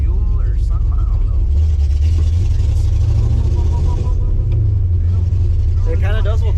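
A Ford Foxbody Mustang engine idles with a loud low rumble that wavers and dips in an uneven stumble, while people talk nearby.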